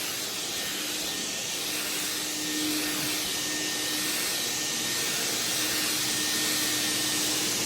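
A fogger machine treating carpet for smoke and nicotine odor gives off a steady, loud hissing whoosh with a faint tonal whine, unbroken throughout and with no talking.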